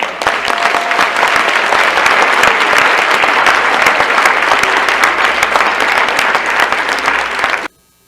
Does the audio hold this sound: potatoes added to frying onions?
no